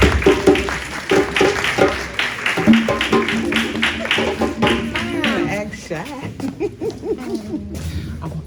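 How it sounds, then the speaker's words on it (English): Audience at a Kwanzaa celebration claps for a child, lively scattered applause mixed with whoops and cheers, with voices talking over it. "Let's give him a round of applause."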